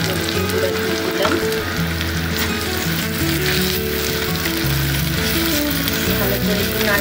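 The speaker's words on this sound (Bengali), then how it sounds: "ভালো করে একটু নাড়তে থাকবো, ভালো করে যদি নাড়াচাড়া থাকা হয়।" Steady loud sizzling of puffed rice frying with egg and turmeric in a pan, with scraping stir strokes running through the constant crackle.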